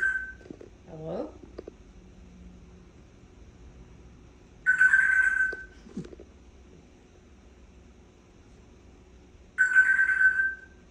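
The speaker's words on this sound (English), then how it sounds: "Answer the phone, Earl." A telephone rings in two separate electronic bursts several seconds apart, clear and close, with brief vocal sounds early on and quiet stretches between rings.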